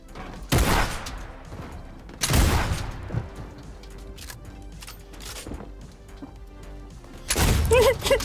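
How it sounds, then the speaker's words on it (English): Double-barrel shotgun blasts from the video game Fortnite: three loud, sharp reports spaced a few seconds apart, with quieter clicks and game noises between them. "How did that shotgun work? I managed to kick his ass. Double barrel."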